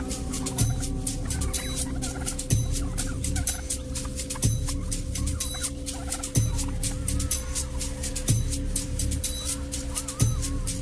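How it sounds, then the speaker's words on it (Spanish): Australian brush turkey gobbling in repeated bursts roughly every two seconds, loud and close, over a steady background hum with fine high ticking. "El pavo de matorral australiano"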